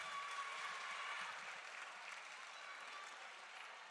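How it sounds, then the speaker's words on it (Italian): An audience at a live outdoor event claps in a continuous, even round of applause, sounding somewhat distant and soft, with a faint voice briefly heard beneath it. "Un applauso forte"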